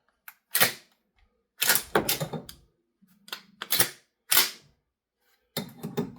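A Marlin 120 shotgun ejecting after its forend plate is pressed, giving a run of sharp metallic clacks and slide clicks in uneven bursts, close and loud with short silences between.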